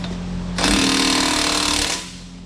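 Impact wrench hammering on bolts that fasten a 500-pound counterweight to a Kubota excavator, one loud sustained rattling burst of about a second and a half, close by with no talk.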